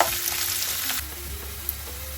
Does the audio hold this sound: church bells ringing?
no